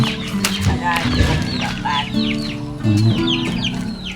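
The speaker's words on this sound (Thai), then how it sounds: "นี่ไก่เดินไปเดินมา" Chickens clucking and calling as they wander around a house yard fenced with bamboo stakes, with several overlapping calls close by and low voices underneath.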